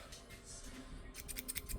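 Scissors snip through expensive, hard-to-cut stitching thread after a leather seam, their blades filed slightly serrated; several short, crisp cutting clicks sound close up over a quiet background.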